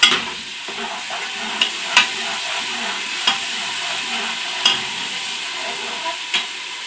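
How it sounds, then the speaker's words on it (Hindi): Garlic sizzles steadily in hot ghee, a continuous hiss broken by occasional sharp pops and clinks from stirring. "घी हमारा गर्म हो गया है, इसमें हमने लहसुन डाल दिया। लहसुन को हम भून लेंगे।"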